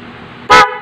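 A single short, loud car horn blast cuts in after a quiet hum, then stops abruptly.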